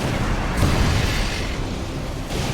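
A unit blowing up in the real-time strategy game Red Alert 3, heard as a dense, sustained low rumble of explosion with a heavier burst around the middle, filling the whole moment with no voices.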